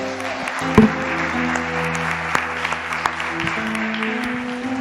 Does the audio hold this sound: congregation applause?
yes